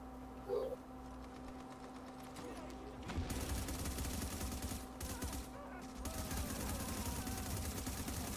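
Gunfire rattles in The Division video game, rapid automatic bursts that are faint and a little distant, running steadily under low background noise with some quiet talk.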